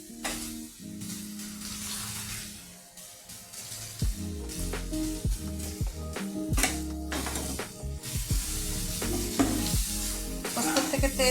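Potatoes frying with poppy seed paste in a pan make a constant sizzle, broken by repeated scraping stirs of a spatula at close range. No one speaks.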